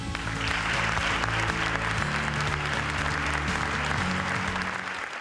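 Steady, dense applause from a large audience at a municipal sports gala in Nules, filling the hall evenly for several seconds, with a low musical hum running underneath.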